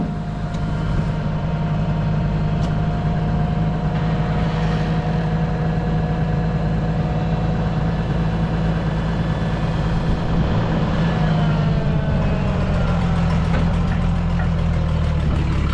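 An old 1050 tractor engine idles steadily with a suspected exhaust manifold gasket leak, giving a constant low rumble with a harmonic hum, close and continuous, with no talking.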